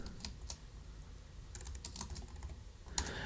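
Someone types on a computer keyboard in light, scattered keystrokes, quiet and close, with a couple of sharper key taps near the end.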